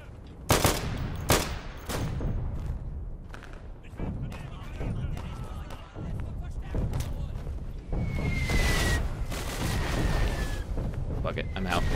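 Sharp gunshots and rapid bursts from the World War II shooter Day of Infamy, some close and punchy, others farther off, with whistling projectiles later and a player talking over the fighting.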